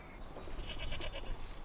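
Goats on a farm bleat a few times in quick succession, moderately close, over a steady background murmur with no talking.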